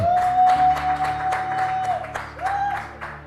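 Church congregation applauding and cheering during a service, steady loud clapping with rhythmic beats, a sustained tone or voice held over the crowd noise.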